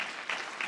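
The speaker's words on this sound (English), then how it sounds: "Could you please join me in one more round of applause" Brief burst of applause at an event naming a special envoy on combatting antisemitism, a dense patter of clapping from a crowd, fairly faint and even throughout.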